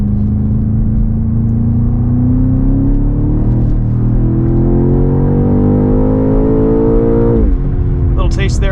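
BMW X6 M Competition's 4.4-liter twin-turbo V8 accelerating hard on a greasy road, a loud continuous engine roar climbing steadily in pitch before a gear change and brief drop, with a voice at the end.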